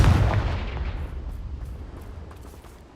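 A Confringo blasting spell in the Hogwarts Legacy video game goes off as one heavy, booming explosion that hits hard at once and then rumbles and fades away over a few seconds.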